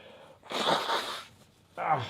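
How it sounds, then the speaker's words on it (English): A single sharp sneeze indoors, close and loud, with a softer breathy intake before it and another short burst just after. "Yeah, sorry, sneezing."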